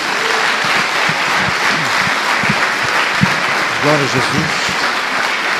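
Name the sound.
congregation applauding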